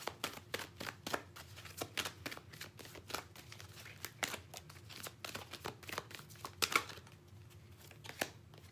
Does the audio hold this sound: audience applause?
no